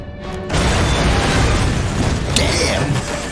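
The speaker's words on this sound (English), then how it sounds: "Blew the fucking doors off." A sudden loud explosion blowing doors off bursts in and rumbles on for a few seconds, with a crash-like clatter near the end.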